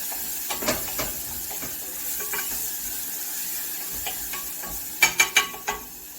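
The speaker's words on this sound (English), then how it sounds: "Let's go ahead and stir that down." Red pepper pasta sauce with anchovies being stirred as it cooks in a pan, a low bubbling sizzle under intermittent scraping and clinks of a utensil, ending in a few louder knocks against the pan, close and without talk.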